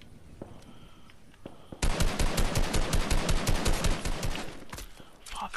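Rapid automatic gunfire in a shooter game: after quiet ambience, a loud, close burst of rhythmic shots rattles on for several seconds before tapering off.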